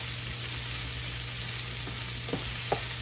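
Vegetables with onions cook in a pan for a chicken fajita bowl, giving a soft continuous sizzle with a low steady hum and a few light taps of a utensil.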